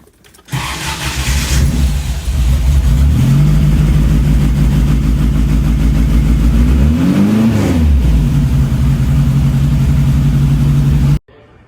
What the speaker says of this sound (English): Let's hop in and fire this thing up and just see what a really nasty Type 4 sounds like.